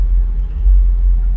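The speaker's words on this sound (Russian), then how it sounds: "Автобус." A bus drives past on a Washington DC street with a loud, close, low engine rumble that holds steady and swells slightly midway.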